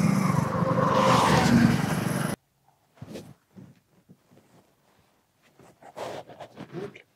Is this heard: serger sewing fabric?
no